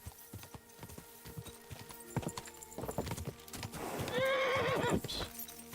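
Horse hooves clip-clop in an uneven patter from Kingdom Come Deliverance 2, then a loud, shrill neigh rises and wavers near the end, all without talk.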